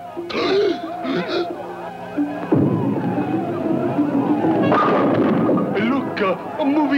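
A cartoon cannon from the 1962 Beany and Cecil short fires with a sudden booming blast midway, followed by a rumbling, crackling roar, and animated voices can be heard around it.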